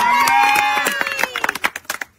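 Scattered hand claps for a colourfully painted uncle at a Holi bottle-flip game, starting after a stretch of voices and tones, then a loose run of sharp, uneven claps from a small group close by.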